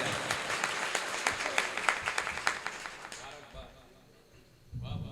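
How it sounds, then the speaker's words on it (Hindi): A mushaira audience breaks into applause, a burst of clapping with sharp individual claps that swells and then fades away, before a voice starts talking near the end. "इनके लिए आप जोरदार तालियां बजाएं"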